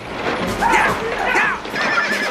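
A horse whinnies in a loud, busy scene from a Western-style drama set on horseback, with a couple of high neighing calls over background commotion and faint voices.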